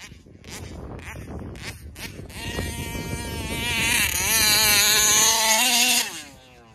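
A Taylor RC 71 Supreme truck on Genesis super spike tires with 28/46 gears, its electric motor whining and rising in pitch as throttle is fed in, holding a loud high tone before cutting off abruptly near the end.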